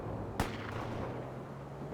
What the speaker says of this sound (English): Fire artillery.